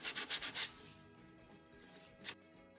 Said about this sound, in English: You want to make sure you're sanding the edge, not sanding the face of this.